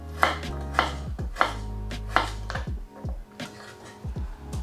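Kitchen knife chopping vegetables for kimchi on a cutting board, a handful of firm, spaced knocks, each with a short resonant thud, close and clear with no talking.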